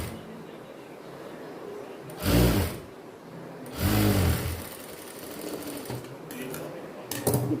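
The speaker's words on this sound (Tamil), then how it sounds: "இப்போ இதில் வந்து ஊக் பீஸ் நம்ம வந்து தைச்சி முடிச்சிட்டோம்." A household sewing machine stitching the hook piece of a girl's silk skirt, running in two short loud bursts, then a quieter stitch near the end, with a low room hum between the runs.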